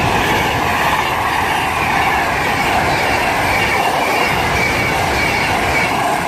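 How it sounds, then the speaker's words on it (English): Close and loud, a Pendolino tilting train thunders through Rugeley Trent Valley station on the West Coast Main Line, a continuous heavy rumble of wheels with a faint whine and rhythmic rail clatter, no voices over it. "as we shut up, there's a Pendolino passing"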